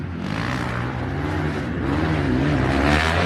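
A big motocross bike runs on a dirt track, its engine a loud, steady drone that swells a little as it passes near, with no talk over it.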